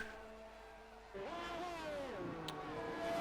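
Renault race car engine heard onboard with driver Matt Dixon in Australian practice, a steady loud harmonic drone that rises in pitch through the gears, dips briefly, then climbs again, with a faint voice underneath.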